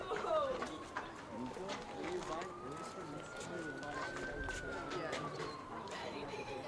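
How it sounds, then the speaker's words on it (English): A police car siren wails at a distance during a junior baseball game, its long rising and falling tone sweeping steadily beneath nearby talk and field noise. "Now that sounds like a police car with a siren on"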